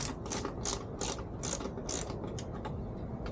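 Ratchet driver with a T25 bit loosening screws on a Can-Am Spyder motorcycle, a steady run of fast close clicking pawl strokes in repeated bursts, loud and alone with no talking.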